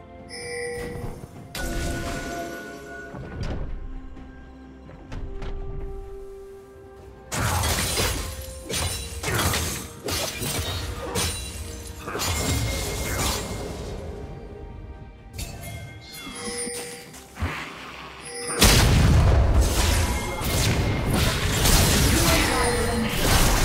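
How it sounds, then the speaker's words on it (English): A turret destroyed in the video game League of Legends breaks apart with loud shattering crashes and metallic clangs, bursts of smashing debris among ringing game effects and bell-like chimes. "Red Team's turret has been destroyed."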